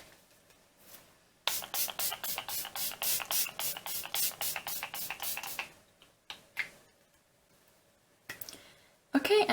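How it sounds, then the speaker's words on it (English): Kat Von D Lock-It setting spray fires in a fast run of short, crisp hissing spritzes from close by, roughly a dozen evenly spaced bursts, then a few scattered sprays after a pause. "now I'm going to set with the Kat Von D Lock-It Setting Spray"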